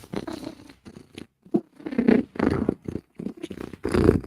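Cats purr up close in a series of short rhythmic rumbling bursts with brief pauses between them, loud and alone.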